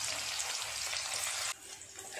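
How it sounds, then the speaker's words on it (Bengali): Onions sizzling in oil in a kadai, a bright, steady crackle that drops quieter partway through as the frying settles. "পেঁয়াজটা ভাজা হয়ে গেছে"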